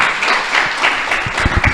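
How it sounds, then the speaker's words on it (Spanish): A church congregation applauds in praise of God, a short burst of dense clapping at moderate loudness, with a few sharper individual claps standing out toward the end. "Démosle un fuerte aplauso a Dios"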